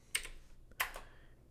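Two quick clusters of keyboard key clicks as a command is typed at a computer, close and crisp with a short gap between them, alone without speech.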